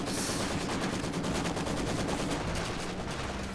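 Maxim machine gun in Company of Heroes 2 gameplay, firing in a continuous dense rattle of rapid bursts mixed with other battlefield gunfire, loud and sustained throughout with no speech.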